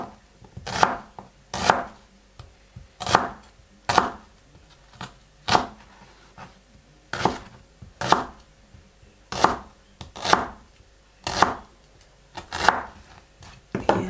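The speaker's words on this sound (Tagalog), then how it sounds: "Hiwa tayong sibuyas." A sharp knife chops an onion on a cutting board, giving roughly sixteen crisp knocks in an uneven but steady rhythm, each clear and close. Faint quiet between the strokes.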